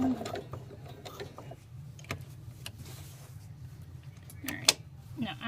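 Sewing machine stitching across the top of a sleeve placket, giving a steady low mechanical whir with intermittent clicks and a sharp tick near the end.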